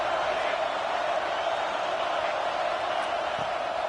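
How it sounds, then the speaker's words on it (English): A home crowd at a football video game roars in a steady, dense wash of cheering noise throughout, loud and continuous without distinct peaks. "Man, this crowd really affecting the football game."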